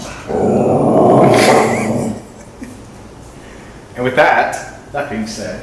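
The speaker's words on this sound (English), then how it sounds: "That was my dog, not my stomach." A dog's low growl rumbles loudly near the microphone for about two seconds, then a softer growl returns while someone speaks over it during a podcast recording.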